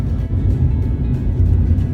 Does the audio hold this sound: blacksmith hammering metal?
no